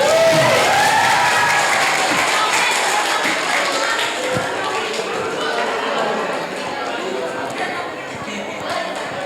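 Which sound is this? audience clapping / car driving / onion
audience clapping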